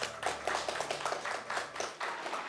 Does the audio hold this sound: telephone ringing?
no